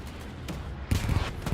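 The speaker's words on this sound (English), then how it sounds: "Got the tiger shooting at the 76." Tank cannon and gunfire in the Hell Let Loose WWII game on Omaha Beach, a Tiger firing at a 76 Sherman; quieter rumble gives way to a burst of several loud booming shots and crackling fire with no talk.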